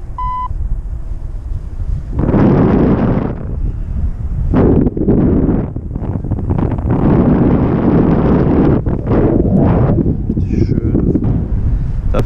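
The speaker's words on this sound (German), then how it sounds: "Dafür, dass so wenig Wind angesagt war, ist ganz schön windig, ey." Strong wind roars and buffets the microphone during a paramotor flight, a loud, continuous gusting rush that rises and dips in strength throughout, with a few faint beeps early on.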